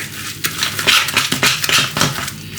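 Utensils scrape and clatter in a dish as vegetables coated in egg are mixed, a busy run of close, bright clinks and knocks at an irregular rhythm.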